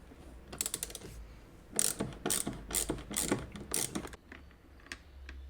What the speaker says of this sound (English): let's take this T30 screw out